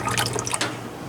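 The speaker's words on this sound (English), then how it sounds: "He's pouring into the old-time ice cream maker." Liquid poured into an old-time ice cream maker that has sat unused for years, a short splashing, trickling pour heard up close with no talking.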